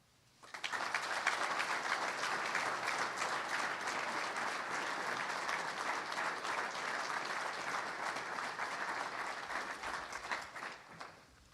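Sustained applause from a press conference audience welcoming new Iowa basketball head coach Ben McCollum, a dense, loud wash of many hands clapping that starts abruptly, holds steady for about ten seconds and tapers off at the end.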